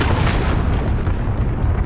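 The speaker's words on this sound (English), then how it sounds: "allied cruise missile away" A cruise missile explosion in the Modern Warfare video game, a loud, dense booming rumble that fills the short moment with heavy low-end roar and no voices.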